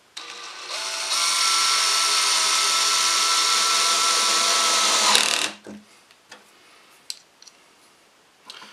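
A power drill drives a 2 1/2 inch triple-coated square-drive deck screw into the end grain of wood for a window flower box, a loud steady whine for about four seconds that stops abruptly, followed by faint clicks and handling noise.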